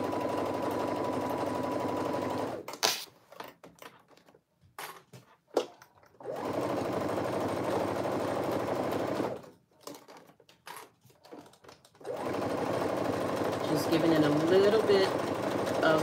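A sewing machine stitching the seam of a cotton tee runs in steady bursts of rapid whirring, stopping twice for short gaps with handling noise, while a voice talks over part of it.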